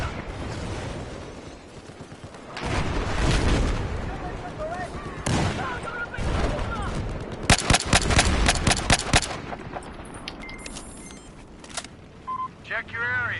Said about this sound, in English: I hear very distinct sniper sound shooting at me.